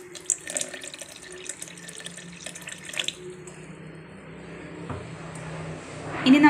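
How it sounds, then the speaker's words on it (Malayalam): Water pours into a mango ginger lemonade mix. A steady splashing flow builds over the last few seconds after some quiet kitchen clatter. "ആവശ്യത്തിന് വെള്ളം ഒഴിക്കാം, അധികം ഒഴിക്കണ്ട,"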